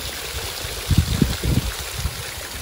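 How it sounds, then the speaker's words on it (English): Water trickles and gurgles through leaking sluice gates of a tidal mill dam, a steady rushing wash with a few soft low splashes near the middle. "I think the dam has sprung a few leaks."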